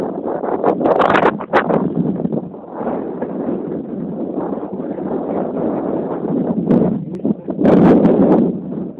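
Strong wind blows outdoors, rumbling and buffeting the microphone in uneven gusts that swell louder near the end.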